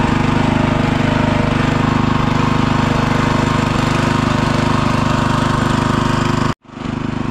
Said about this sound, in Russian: Вот это холостые обороты